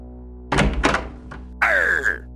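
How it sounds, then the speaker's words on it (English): A door bangs open with a couple of heavy thunks and a knock, followed by a creaking hinge-like squeal, over a steady low hum in a quiet room. "The doors suddenly open."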